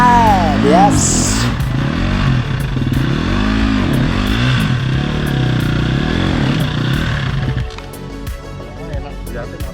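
A fuel-injected motorcycle rides along a very slippery road, its engine note rising and falling in smooth, repeated revving sweeps up close before tailing off, with a voice talking over it.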